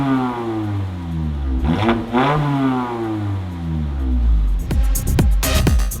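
Car fitted with a Magnaflow performance exhaust revving hard, with a clean, aggressive tone. The engine note climbs and falls through repeated sweeps, loud and close, with sharp blips near the end.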